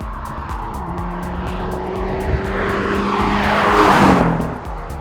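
A Hyundai Elantra N, a front-wheel-drive performance car, slides with its tires squealing in long sustained tones over a loud engine drone that swells toward the end, with no voices.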